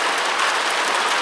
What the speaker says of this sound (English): about this rain.